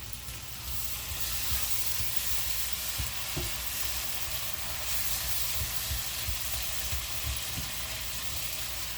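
Smothered hamburger patties in gravy sizzle and bubble in a frying pan as salt is stirred in, a steady close hiss with light scrapes of the stirring utensil against the pan.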